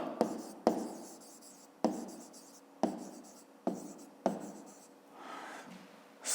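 A pen writes an answer on paper in short scratchy strokes, each starting with a sharp tap and fading, about six of them spaced across the quiet room, close and fairly soft.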